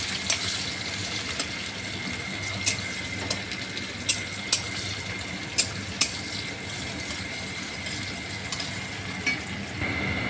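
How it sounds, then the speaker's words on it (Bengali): Chopped onion frying in oil with cardamom, cinnamon and cloves, a steady sizzle with sharp clicks and scrapes from stirring scattered throughout. "পেঁয়াজ কুচি ভালো করে নেড়ে নিতে হবে"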